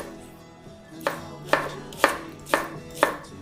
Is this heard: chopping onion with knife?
yes